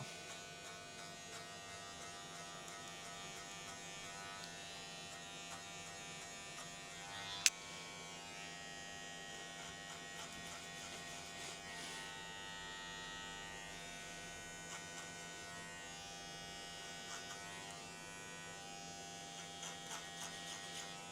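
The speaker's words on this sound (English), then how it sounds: "Now we're using our #1 guard on our magic clips." Electric hair clippers fitted with a #1 guard cut hair during a skin fade, giving a steady, fairly quiet buzzing hum close by with one sharp click partway through and no voices.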